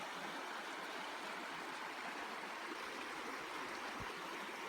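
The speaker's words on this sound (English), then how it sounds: "This is a little river that is behind our campsite," A small creek flows behind a campsite in Yellowstone, a steady broadband rush of running water with no voices, continuous and fairly close throughout.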